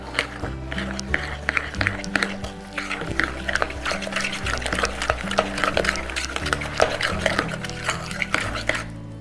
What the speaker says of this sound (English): I'll show you just what it should look like after I stir it